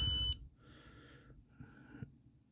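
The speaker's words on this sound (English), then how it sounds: "Our alarm's going off." A temperature sensor alarm gives a loud electronic beep at the start, then fainter repeated beeping tones continue against a quiet background.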